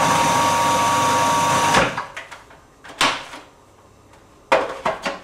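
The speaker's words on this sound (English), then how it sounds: "I'm just going to process that very briefly to mix up the sugar." Food processor blending sugar and spices for Christmas gingerbread, a steady loud whir for under two seconds, then stopping, followed by a few sharp knocks and clatters of the bowl and lid.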